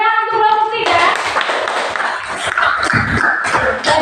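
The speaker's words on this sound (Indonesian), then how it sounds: "tepuk tangan untuk kelompok 3" Classroom applause for a presenting student group in an elementary school, a dense burst of many small hands clapping steadily for several seconds after a brief spoken line, with chatter mixed in.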